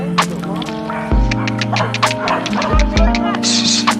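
A dog at a family home in the Philippines barks and yips in short sharp bursts close by, mixed in with people talking and a voice.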